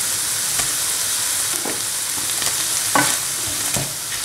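Chickpeas and grilled vegetables sizzle and fry steadily in a pan, with occasional stirring scrapes cutting through the constant hiss, close and fairly loud.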